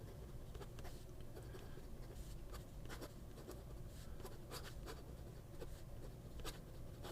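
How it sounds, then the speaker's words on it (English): A Pilot Prera fountain pen with a fine nib scratches faintly across paper in quick, close strokes, continuous with small ticks at the stroke ends and no voices. "And this one has a fine nib. But, after a week, it's still writing."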